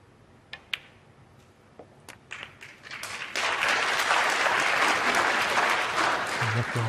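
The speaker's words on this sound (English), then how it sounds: "And applause for Joe Perry, 59." At a snooker match, a few scattered claps grow into a full round of audience applause that holds steady and loud.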